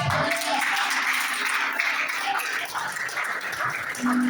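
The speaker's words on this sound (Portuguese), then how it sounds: "Você pode aplaudir Jesus?" Church congregation applauding together during a sermon, a steady, dense wash of clapping that continues throughout with a few voices mixed in.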